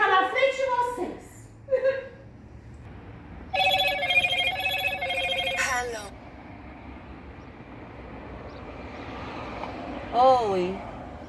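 A telephone rings in a childcare centre with a repeating electronic trill of about two seconds, fairly loud, set between stretches of speech before and after, with a short chirping tone near the end.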